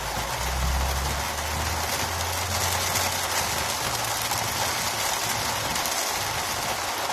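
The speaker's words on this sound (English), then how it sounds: "now the rain has really picked up" Heavy rainstorm in Lancaster, Pennsylvania: a dense, constant hiss of pouring rain fills the whole stretch, with a low rumble underneath and no voices.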